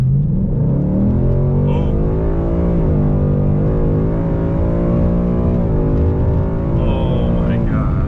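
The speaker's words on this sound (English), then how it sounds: "I want to do a little acceleration once I round this corner" Ford Mustang GT engine accelerating hard from inside the car, a loud steady rumble with rising harmonics that climb, dip at a gear change and climb again, while a voice briefly exclaims.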